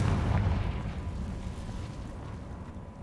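Fire spell explosion in the video game Hogwarts Legacy: a deep, rumbling blast that starts loud and slowly decays into a low roar over a few seconds, with no speech over it.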